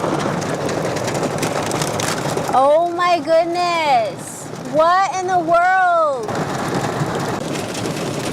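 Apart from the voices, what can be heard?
rain falling on a campsite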